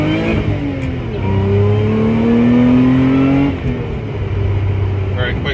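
A Lotus Emira sports car in sport mode pulls hard in first gear on an open road, its engine note climbing steadily in a loud, close cabin drone, dipping briefly near the end as revs settle.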